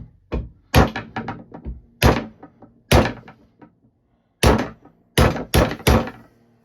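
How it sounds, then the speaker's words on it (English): Repeated hard thuds of something striking a screwdriver handle, about a dozen sharp knocks in irregular bursts with short pauses between groups, close and loud with no speech. "don't get out of shape about me banging on a non-tang through handle"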